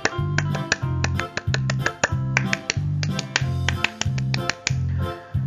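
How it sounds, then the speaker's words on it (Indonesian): Rhythmic scout clapping, the Indonesian tepuk pramuka pattern, comes in crisp repeated groups of sharp claps over a steady low tone throughout, with no talking. "3 kali tepuk pramuka."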